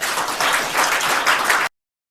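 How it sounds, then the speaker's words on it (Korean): Audience applause welcoming a speaker at a Korea-US business friendship forum, a dense, steady wash of many hands clapping at close range that holds evenly for under two seconds and then cuts off abruptly. "큰 박수로 맞이해 주시기 바랍니다"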